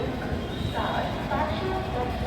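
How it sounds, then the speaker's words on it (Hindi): Railway locomotive at Varanasi railway station, a steady low rumble with faint metallic squeal throughout, heard under background voices at moderate distance. "ये आप देख सकते हो रेलवे का इंजन"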